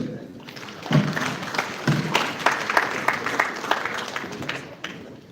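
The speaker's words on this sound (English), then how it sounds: "a warm applause for Dr. Dantale" A crowd applauds at a Nigerian national peace accord signing by presidential candidates. The clapping rises and falls unevenly and sits close and fairly loud, with a voice talking through part of it.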